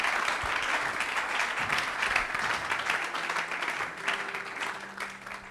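A church congregation applauds, with dense, steady clapping from a room full of people that fades a little toward the end.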